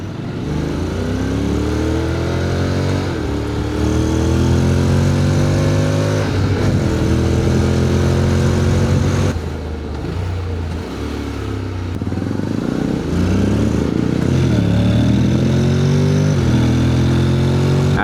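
Motorcycle engine revving hard as the throttle is opened repeatedly, loud and close, with rising and falling pitch sweeps and a clattery idle between blips, no talking.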